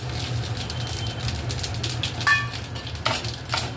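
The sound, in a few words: cumin seeds sizzling as tempering in hot oil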